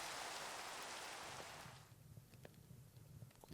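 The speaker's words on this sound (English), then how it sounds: "When is the rain gonna stop?" Rain pours loudly in a dense hiss, then thins abruptly partway through to scattered drops and light patter that continue more faintly to the end, with no talking.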